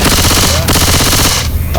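Rapid automatic gunfire from the co-op zombie shooter Left 4 Dead 2 during the Hard Rain campaign, loud sustained bursts filling the whole moment with a brief break midway.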